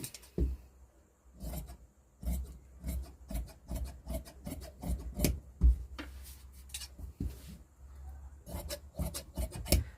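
Scissors cut through princess blouse fabric on a tailoring table, a steady run of dry, rasping snips and rubs at close range, with short pauses between strokes and no talking.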